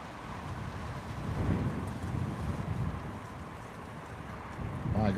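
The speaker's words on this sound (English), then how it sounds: "My God, it's windy." Strong wind buffets a muffled microphone outdoors, a steady low rumbling roar with gusts swelling and easing throughout, loud and close, no voices.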